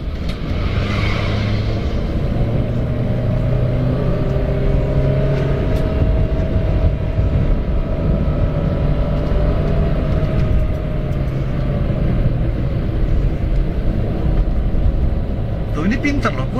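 Toyota Agya 1.2 G TRD automatic accelerating hard on an out-of-town road with the throttle floored in kick-down, a loud steady engine drone heard from inside the cabin.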